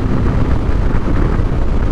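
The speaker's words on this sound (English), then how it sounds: "This is one of the windiest days I've ever ridden on" Strong wind roars past while riding a Harley-Davidson Fat Boy cruiser motorcycle, a dense, steady low rumbling rush of air with no talking.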